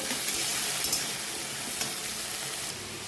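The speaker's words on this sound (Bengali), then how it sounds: "এরপর আমি পেঁয়াজ দিয়ে দিয়েছি। কড়াইটা ভালো করে নেড়ে নেব।" Onions sizzle steadily in hot oil in a wok, with occasional scraping clicks of stirring over the continuous frying hiss; no one speaks.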